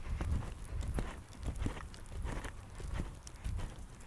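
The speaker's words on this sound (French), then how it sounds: "partir tout de suite dans le galop" A horse's hooves beat in a steady rhythmic clip-clop on soft ground in a riding arena, moderately near and fairly quiet, with no voices.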